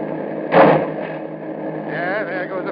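A car scrapes off its fender during a chase in an old police radio drama: one brief, harsh grinding burst over a steady engine drone, then a voice speaks.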